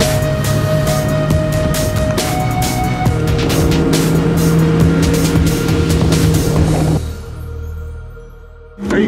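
Chopped and widened '49 Ford on a BMW platform with a 62 mm turbo driving off, a loud rough engine roar through gear changes that drops away abruptly near the end before surging again.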